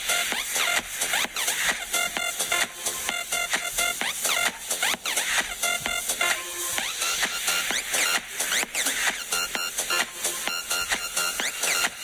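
Feet shuffle and scrape in a dance act at a nursing-home Halloween show, sounding as quick rhythmic steps that run steadily over music throughout.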